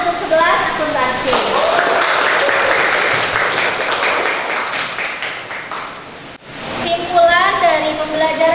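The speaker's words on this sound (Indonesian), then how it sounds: "Tepuk tangan untuk 11 akuntansi." Sustained applause from a classroom of students fills the space, with voices rising over the clapping near the start and again at the end after a brief dip.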